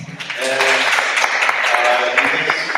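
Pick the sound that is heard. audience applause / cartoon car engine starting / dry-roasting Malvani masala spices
audience applause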